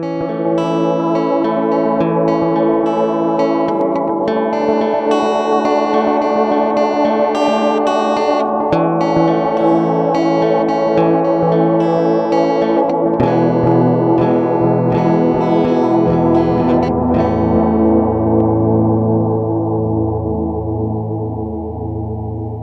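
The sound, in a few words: oscillating modulation and feedback from effects pedal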